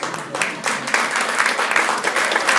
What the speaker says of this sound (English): I would like everybody who's not named Mary Dewart to applaud her efforts